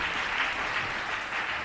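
A church congregation applauds the Lord in a steady, dense wash of clapping at moderate distance, with no break across the short stretch.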